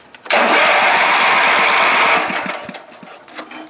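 A Wheel Horse lawn tractor engine, running on a little choke, cranks and catches with a sudden loud roar that holds for about two seconds, then sputters and stumbles into uneven pops as it falters.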